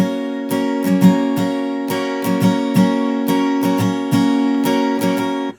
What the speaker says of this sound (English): So the strumming pattern is going to sound like this.